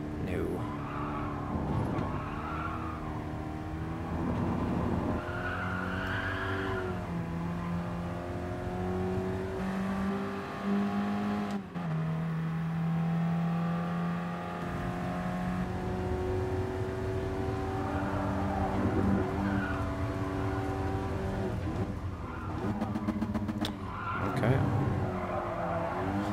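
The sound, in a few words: race car braking and skidding in video game Gran Turismo Sport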